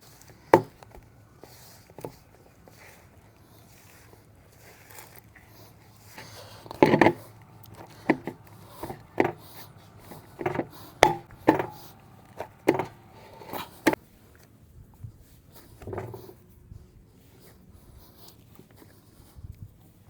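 Maida dough made with milk and milk powder is kneaded by hand, giving irregular soft thumps and slaps that come in quick clusters, fairly faint and close, with no talking.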